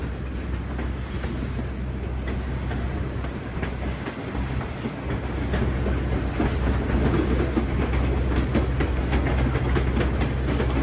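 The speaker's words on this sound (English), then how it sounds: "Watch the train bend around the mountain." A White Pass & Yukon Route train rolls steadily along the mountain track, bending around the mountain, its wheels clacking in a continuous rhythm with a low rumble that swells slightly toward the end.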